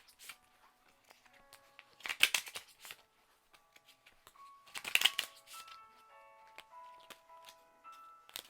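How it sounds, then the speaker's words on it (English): A deck of tarot cards is shuffled close by in two bursts of riffling and fluttering, with lighter taps and card slides between them and quiet moments in between. "I'm also going to shuffle a deck to get clarifiers"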